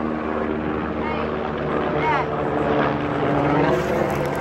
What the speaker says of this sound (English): Here comes another one of the mini helicopters